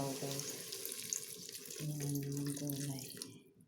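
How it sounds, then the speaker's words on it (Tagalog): Water from a tap pours into a cooking pot for a vegetable soup, a steady splashing gush whose pitch shifts as the pot fills, close and clear, with faint background sound. "Lagyan natin ng konting tubig yung ano guys, sabaw guys."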